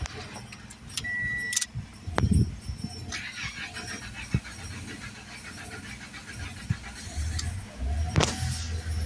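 A Toyota Corolla key jangles in several short metallic rattles up close, with clicks and handling noises over a quiet background hum.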